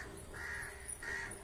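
Crows give a couple of harsh caws close by while pigeons feed, with steady outdoor background noise underneath.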